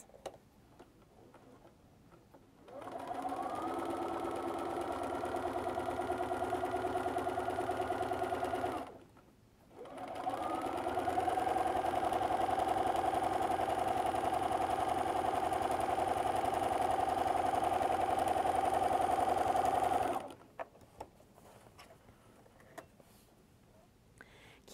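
A sewing machine fitted with a walking foot stitches a quilted grid in two long runs of about six and ten seconds. Its steady whirring hum and rapid ticking are loud and close, with a short pause between the runs and no talking.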